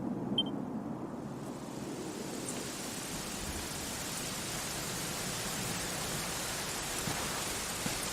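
Steady, even hiss of rain falling in the video game Dragon Quest XI, constant throughout with no voices or distinct drops standing out.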